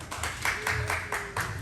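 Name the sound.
audience applause for Darren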